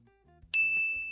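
A bright, clear ding rings out once and lingers with a sustained shimmering tone, clean and close.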